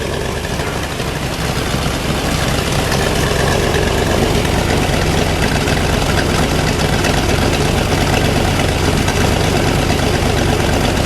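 A 1963 Chevrolet Corvette's fuel-injected 327 V8 idles steadily with a deep, loud, rumbling exhaust drone, unchanging throughout and no voices.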